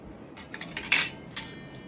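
Steel fork and spoon handled together, giving a few light metallic clinks and rattles over about two seconds, close and fairly quiet with no talking.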